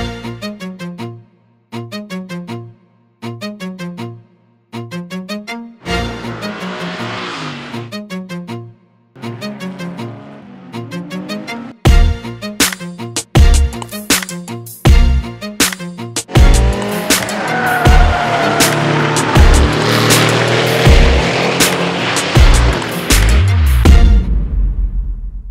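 Aston Martin V8 Vantage with an AMG V8 driven hard on a circuit: loud, close engine revving in repeated bursts and gear changes, building into sustained high-rev acceleration with tire squeal.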